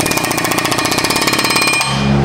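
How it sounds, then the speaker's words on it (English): A lightweight air hammer gently taps the seized parking brake shoes and actuators of a Chevy Traverse, giving a rapid, even train of close metallic blows that stops abruptly near the end. "You wanna get your Sissy Girl air hammer, the lightweight one with good trigger control."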